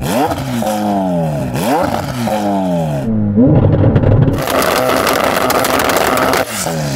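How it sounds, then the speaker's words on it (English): A sports car engine with a tuned exhaust revs hard several times in rising sweeps, a loud, throaty exhaust roaring close by, then holds a harsh, raspy drone. "Have a listen to mine with the tuned exhaust."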